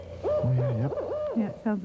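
A great gray owl gives a few low, deep hoots outdoors, mixed with nearby people talking briefly over them.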